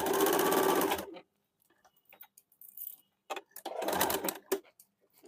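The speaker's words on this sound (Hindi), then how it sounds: "इसको हम लोग डबल सिलाई चला देंगे" A sewing machine runs a double line of stitching along the half-inch shoulder seam of a men's short kurta, in two close, rapid rattling bursts separated by quiet fabric handling and light clicks.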